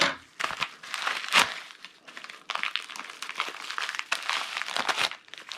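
Cardboard, plastic and paper packaging around a 2JZ multilayer steel head gasket being cut and pulled open with scissors, a close series of crinkling, tearing and crunching bursts with short pauses between.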